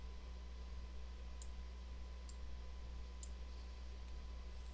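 Three sharp, faint computer mouse clicks spaced about a second apart, made while coloring artwork in Adobe Illustrator with Live Paint, over a steady low hum.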